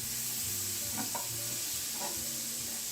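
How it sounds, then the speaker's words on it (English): Lean ground beef fries in a preheated pan with a little butter, giving a steady broadband sizzle with a few soft scraping stirs throughout. "Okay, so now I'm gonna fry the meat"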